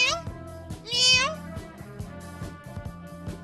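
A cat meows in a rising, drawn-out cry, standing out over a steady rhythmic music backing with thumping beats.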